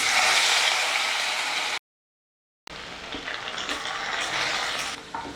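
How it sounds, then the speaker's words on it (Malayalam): Sliced taro (chembu) sizzles steadily and loudly in hot oil, a dense crackling hiss that cuts out completely for about a second before resuming with a few light stirring clinks. "ഇനി നമ്മളിതൊന്ന് വറുത്തെടുക്കുകയാണേ"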